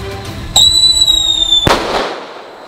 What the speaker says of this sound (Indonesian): Ternyata ledakannya sekeras itu ya